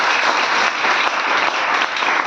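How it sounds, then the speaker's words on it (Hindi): A lecture audience claps steadily for Shivaji Maharaj during a motivational talk in Chhindwara, a dense, even wash of many hands held at full loudness, with no voices over it. "यार, तालियां बजा रहे हो कि बेइज्जती कर रहे हो?"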